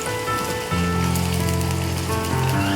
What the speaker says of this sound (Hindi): आप देख सकते हैं ये भिंडी तमाम मैंने डाल दी और ये फ्राई हो रही हैं